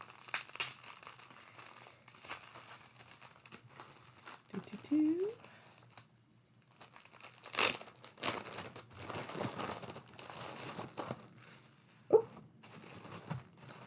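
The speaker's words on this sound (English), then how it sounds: "Here comes some crinkles." Plastic wrapping crinkles as a stitching project package is opened, with rustling bursts spread through the clip and a few louder crackles, some quiet speech-like sounds in between.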